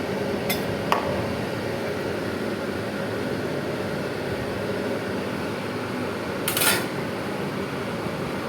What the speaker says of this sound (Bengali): ভালো করে একটু নেড়ে চেড়ে ঢাকা দিয়ে দেবো